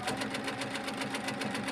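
Sewing machine fitted with a couching foot stitching down yarn, a fast even mechanical chatter of needle strokes repeating rapidly and steadily at close range, with no voices over it.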